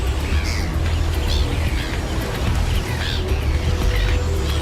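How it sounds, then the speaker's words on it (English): Gulls call repeatedly over the sea while feeding on a bait ball, harsh cries rising above a loud, steady wash of surf and wind. "The gulls eat on the fly"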